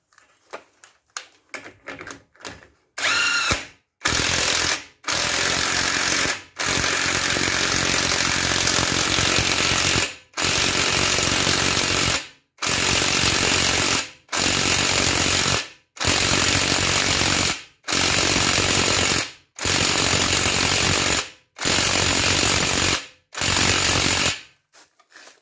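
An impact wrench tightens the outer CV joint on an Audi 100 Quattro C4 in a series of loud, close, rattling bursts, about ten of them, each a couple of seconds long with short pauses between.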